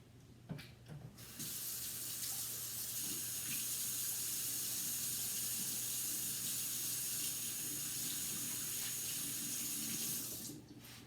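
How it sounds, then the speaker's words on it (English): A kitchen water tap runs steadily over hands being washed, a loud continuous splashing rush that starts after a second of handling noise and cuts off near the end. "So let me wash my hands off so I can get some saran wrap."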